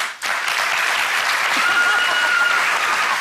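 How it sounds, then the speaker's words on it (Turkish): An audience claps loudly and steadily for the finalists of a televised singing competition, a dense unbroken wave of applause after a brief quiet moment, close and full, with no voices on top. "finalistleri yanıma alayım lütfen alkışlarla"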